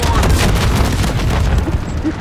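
Loud rolling booms and crackling blasts of in-game fireworks during a Call of Duty Modern Warfare 3 Zombies match, dense and close, easing slightly toward the end with a voice partly mixed in.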